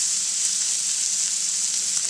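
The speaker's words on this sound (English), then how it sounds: "Add our steak right to the butter." Steak sizzles in clarified butter in a very hot, thick pan, giving a loud, steady, hissing fry throughout with no pauses.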